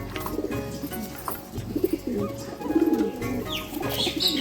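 Soft, repeated low cooing phrases come from a nearby Kalanka pigeon kept at home with eggs, rising and falling in short bursts over a faint background of other birds chirping.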